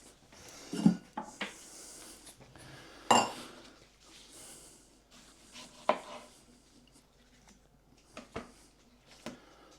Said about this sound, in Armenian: Հիմա հարկավոր է մեզի պամիդորը կտրատել։